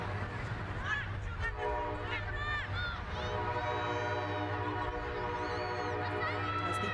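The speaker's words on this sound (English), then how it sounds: "As the train goes past the stadium, they are so long, the trains in America." A long American freight train rolls past a soccer stadium, its horn sounding in sustained tonal blasts over steady rumble and crowd noise, while a commentator talks throughout.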